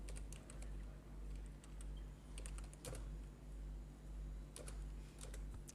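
Quick bursts of computer keyboard key clicks come in clusters with short pauses in between, close and clear over a low steady hum, as an entry is typed into an MS Word document.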